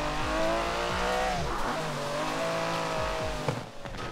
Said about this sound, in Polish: Ja to driftuję!